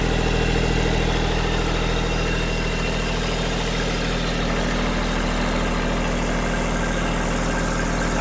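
A 2020 Kubota B2740S tractor with about 400 hours and a sugarcane guard frame idles its diesel engine close by, a steady, even, unbroken rumble with no talking.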